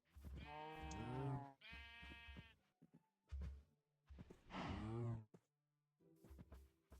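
Sheep in Minecraft bleat in several loud, wavering calls, two close together at the start and another mid-way, with short game thunks and clicks between and no talking.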